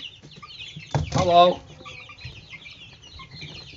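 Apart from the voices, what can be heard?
chickens clucking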